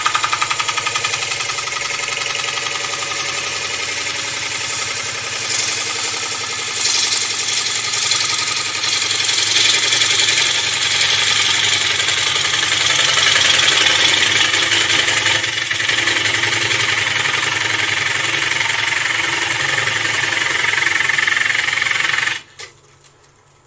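A wood lathe spinning an unfinished bowl while a gouge takes a couple more cuts, a loud continuous whirring hum with a rough scraping hiss that swells and fades, close and without talk, cutting off abruptly near the end.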